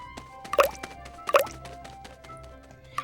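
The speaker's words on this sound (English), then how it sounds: "He picked up pebbles one by one and started dropping them in the pot." Pebbles dropped one at a time into a pot of water, giving three distinct wet plops spaced about a second apart, each a short splashy drip-like impact standing alone.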